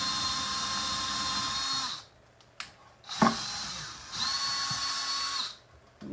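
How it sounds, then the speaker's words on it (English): A power drill enlarges a hole in a thrifted wooden box on a crafting table: two close, loud, sustained whirring bursts with a short quiet gap and a clunk between them. "Let's see what happens if we just drill that hole a little bit bigger"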